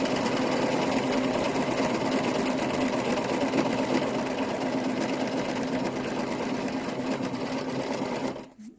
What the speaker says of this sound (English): I'm going to serge them now, just so they have a nicer finish